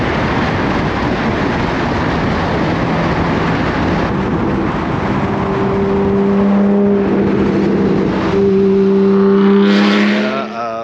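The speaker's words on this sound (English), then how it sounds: "Thanks for flooring it every time I open my window, dude." A car engine revs hard as the driver floors it, a loud sustained roar that climbs in pitch toward the end before cutting off abruptly.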